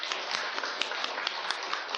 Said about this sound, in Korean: 우리 박수로 우리 크신 주님께 큰 영광의 박수 올려드리기 원합니다.